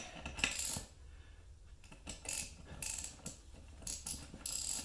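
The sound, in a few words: cranking the Bead Buster XB-455 tire bead breaker ratchet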